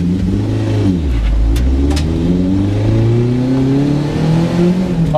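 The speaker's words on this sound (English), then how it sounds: "Then it hits the rev limiter." A cheap Chinese truck's engine revs up hard with a steadily rising pitch, climbing to the rev limiter and bouncing against it, loud and close throughout with no talking.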